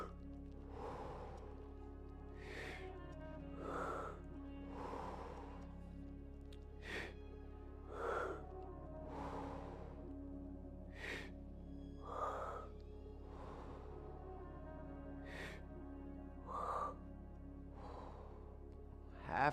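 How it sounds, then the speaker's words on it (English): Slow, steady breaths drawn in and let out during a guided meditation breathing exercise, roughly ten soft airy pulses spaced a couple of seconds apart over a low constant hum, close and quiet with no talking. "Relax your body as you breathe out."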